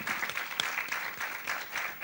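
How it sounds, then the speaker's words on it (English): Dense, continuous applause from participants at the close of a webinar session, an even wash of many hands clapping with no voices over it. "A great applause to all of you"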